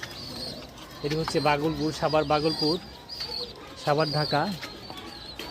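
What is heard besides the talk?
pigeons cooing at a pigeon farm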